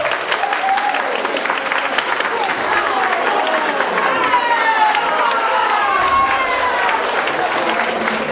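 Wedding guests at a reception in Wejherowo applaud the newlyweds around their first dance, a steady wash of many hands clapping with crowd murmur and some voices mixed in throughout.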